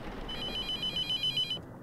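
A telephone rings in a morgue-themed video game: a bright, rapid electronic trill repeats for about a second and then cuts off, leaving quiet room tone.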